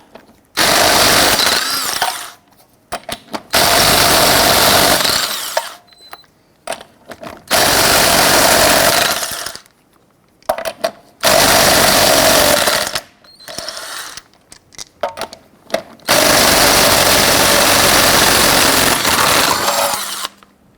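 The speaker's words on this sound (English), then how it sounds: "Using your 19mm socket, loosen and remove the lug nuts." A 19mm socket on a power tool loosens and removes lug nuts from the driver's side front wheel of a 1999-2004 Jeep Grand Cherokee, in about six loud, close bursts of whirring rattle separated by short pauses, with no talk.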